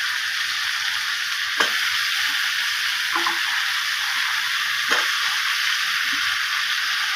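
Potato and pumpkin pieces fried and stirred in a pan, a loud continuous sizzle with a few distinct spatula scrapes against the pan.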